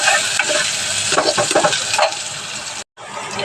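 Garlic and onion fry in hot oil for dal, with a loud, steady sizzle and repeated scraping strokes of a spoon stirring the pan. The sound cuts out briefly near the end before resuming.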